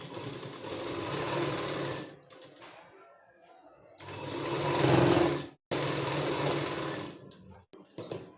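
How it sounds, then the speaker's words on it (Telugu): A sewing machine stitches a saree blouse in close, loud bursts, running for about two seconds, pausing, then running twice more with brief stops between. "ఇప్పుడు ఇలా ఒకసారి కుట్టేసుకోండి ఇక్కడ"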